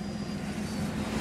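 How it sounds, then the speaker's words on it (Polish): Bomber aircraft in the World War 3 video game passing overhead: a steady low engine drone with a faint high whine, holding at an even level throughout. "leci bombowy, o, nalot bombowy"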